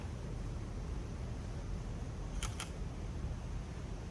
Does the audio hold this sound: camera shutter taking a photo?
yes